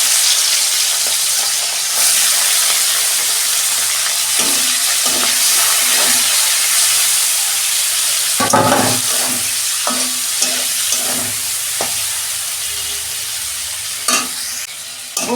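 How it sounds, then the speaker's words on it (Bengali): Prawns fry in the oil left from frying potatoes, giving a loud, continuous sizzle with repeated spatula scrapes and stirring knocks throughout. "ওই তেলে আমি চিংড়ি মাছটা ভেজে নেব"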